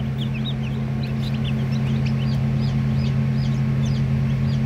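Australorp chickens, a flock of hens and roosters kept for incubator breeding, cluck and chirp steadily throughout over a loud constant low electrical hum, likely from an incubator or fan.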